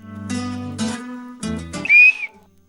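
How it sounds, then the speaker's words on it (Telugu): A contestant on a Telugu TV game show blows a whistle: one sharp, shrill blast after a stretch of music, loud and clear. "ఎవరు ఫస్ట్ విజిల్ వేస్తే వాళ్ళకి ఫస్ట్ ఛాన్స్ వస్తుంది."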